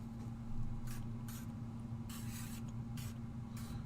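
A Chroma Mist spray bottle sprays in several short, hissing bursts of uneven length, fairly close, with a steady low hum underneath.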